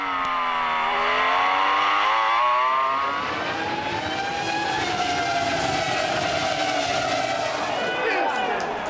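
Formula One race cars, including a Renault and McLarens from the 2002 season, accelerate with high engine whines rising and sweeping in pitch as they pass. The roar holds steady and loud, with commentary running over it.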